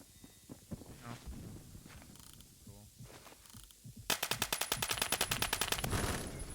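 AN-94 assault rifle fire in a video game: a tight run of rapid, evenly spaced shots bursts in after quieter game ambience and scattered softer effects, close and fairly loud.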